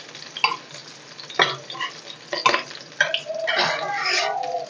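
Sliced green chillies frying in a pan as a spoon stirs them, several scraping stirs over a soft sizzle, close and fairly quiet.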